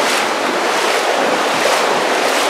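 Steady rushing water of the Pomme de Terre River flowing under a stone block bridge, a continuous broadband wash heard alone at close range with some wind, no talking.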